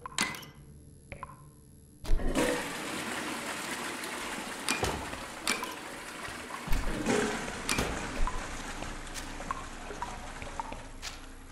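A toilet flushing in the gardening video game Grunn, a sudden loud rush of water that settles into a steady pouring and trickling hiss, with no voices.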